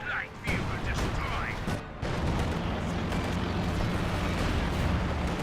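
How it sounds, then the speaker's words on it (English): Artillery barrage in the WWII strategy game Company of Heroes 2, a dense rumbling roar of overlapping blasts and booms that carries on steadily throughout, with brief dips and a sharp pop near two seconds, under a voice. "the artillery barrage is doing some good damage there"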